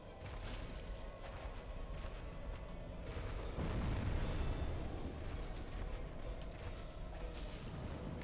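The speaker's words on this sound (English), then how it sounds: "Just those explosions, you really gotta watch out for them." Explosions rumble through the poisonous swamp of Blighttown in Dark Souls, a continuous dense low booming roar that swells louder around the middle and stays heavy throughout, with no voices.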